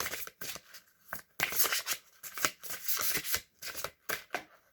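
A deck of playing cards being shuffled up close, with repeated riffling bursts and short gaps between them, crisp and fairly bright, and nobody talking.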